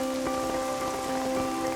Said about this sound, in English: Another dose of invigorating Welsh rain.